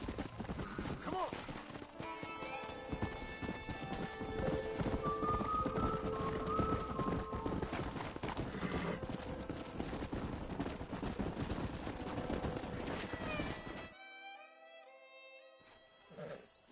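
Horses in the video game Red Dead Redemption clip-clop and whinny for a long stretch under dense game sounds, music and talk, with distant gunfire. A quieter tail follows with a few soft hoof sounds.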